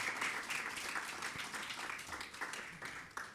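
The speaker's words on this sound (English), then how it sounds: "Maybe invite a warm round of applause to invite all of our panelists and speakers today as well." Audience at a book launch gives steady applause, a dense wash of clapping hands through the whole moment, moderately distant in a hall.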